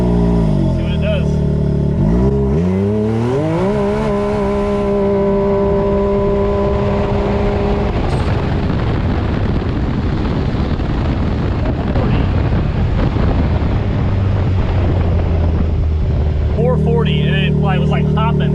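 A Can-Am X3 RR side-by-side with a tuned clutch launching in four-wheel drive, engine note rising sharply then roaring steadily at full throttle over strong wind buffeting, with talk throughout.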